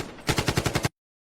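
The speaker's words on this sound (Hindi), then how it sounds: "हम लोग का गोली चलेगा, अब देख" Rapid automatic gunfire from a comedy skit: a quick burst of about seven evenly spaced, loud, close shots that stops abruptly and is followed by silence.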